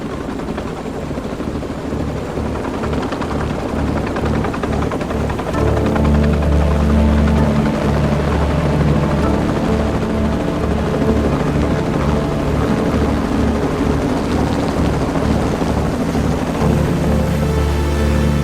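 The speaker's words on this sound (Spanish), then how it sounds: "pudo escuchar que los helicópteros caían" A helicopter's steady, loud rotor thumping fills the air continuously, with a deep pulsing drone that swells slightly partway through.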